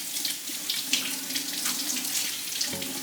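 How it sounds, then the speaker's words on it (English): Tap water runs steadily into a kitchen sink as salted fish is rinsed under it, a continuous close splashing stream with no talk. "So I will just give it a wash just to remove the extra salt that is on the outer part of it here."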